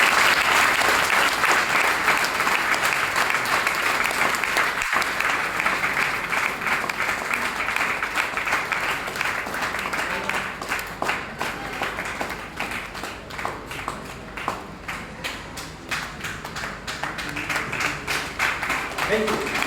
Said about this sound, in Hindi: एक बार आप तालियां बजा सकते हैं